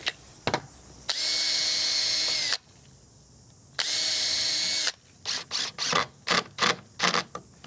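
A power drill drives screws into a wooden gate, with two long sustained whirring runs separated by a pause, then a string of short, rapid trigger bursts, loud and close.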